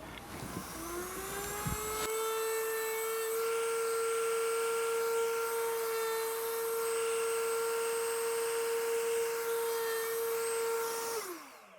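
A wood router rounds over the edges of a board, spinning up into a loud, steady high-pitched whine that holds for about ten seconds, then winds down at the end, with no talking.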